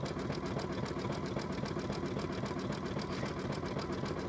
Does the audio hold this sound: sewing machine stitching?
yes